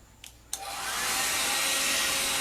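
A hair dryer switches on after a couple of brief knocks and then blows with a steady, loud, broadband whoosh, drying glue on the back of a vintage drawer unit.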